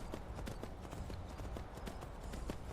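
Hooves of a red horse clip-clop in a steady, rapid rhythm in Skyrim outside Whiterun near the stables, close and continuous over a low game ambience.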